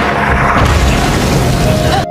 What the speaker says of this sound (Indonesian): Namun tiba-tiba ada bom ranjau meledak.